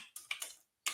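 Keystrokes on a computer keyboard during live coding, a quick close cluster of clicks, a short pause, then another burst of taps.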